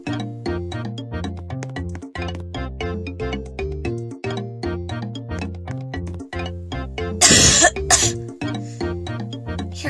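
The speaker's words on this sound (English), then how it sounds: "don't be coughing in the sushi" A cartoon character gives a short burst of harsh coughing in an animated sushi restaurant, loud and close over a steady bouncy music loop.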